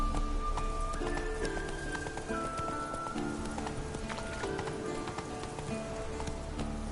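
Roach, a horse in The Witcher 3 video game, gallops with a steady clip-clop of hooves over a constant backdrop of rain and ambient wind, with occasional musical tones and faint voice-like bits.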